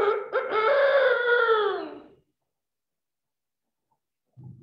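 A single rooster crows once, a loud, clear cock-a-doodle-doo lasting about two seconds, followed by silence and a faint low sound at the end.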